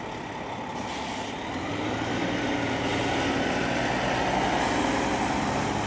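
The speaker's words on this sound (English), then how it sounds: "Here's a tour bus." A tour bus rumbles past on a snowy Manhattan street in New York City, a loud, steady heavy-vehicle drone that swells slightly as it nears, with hissing tire and traffic noise and no talking.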